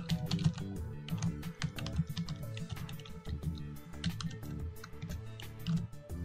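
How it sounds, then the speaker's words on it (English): Someone types on a computer keyboard, a quick irregular run of soft close key clicks with brief pauses, quiet and alone. "we'll type in a title at the very top"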